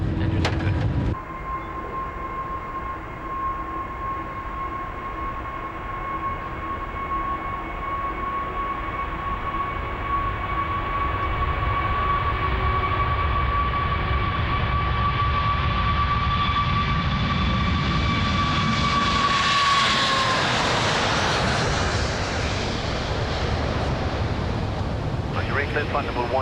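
An Airbus A380 on a flight-test takeoff: four jet engines spool up into a loud, sustained roar with a steady high whine, swelling into a broad rushing blast near the end.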